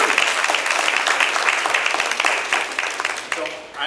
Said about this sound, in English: give yourselves a round of applause for doing it